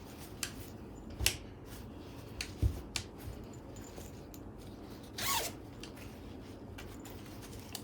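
A zipper on a sewn ankara bustier top gives a few quick, faint rasps and clicks, with one longer zipping pull near the end, over quiet room background.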